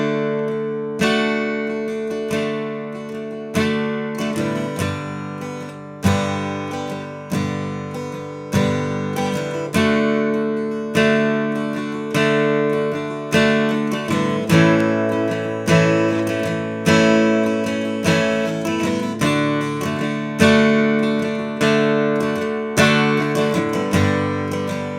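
Guitar chords from the first verse of a song, strummed in a steady rhythm of bright, ringing attacks that each fade before the next, played alone with no singing or talk.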